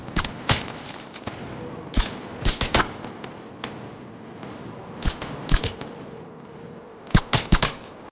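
Suppressed guns fire in an irregular series of sharp, muffled cracks, some in quick doubles and triples, with a low steady background hum between shots and no voices.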